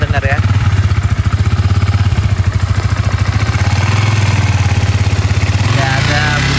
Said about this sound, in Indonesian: Suara mesin halus, nyalain, nah, kalian dengar ya.